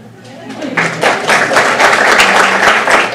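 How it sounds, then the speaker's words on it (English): Applause builds from a light start into a full, steady round of clapping among attendees at a school board meeting, with some voices mixed in beneath. "you don't have to applaud after each one"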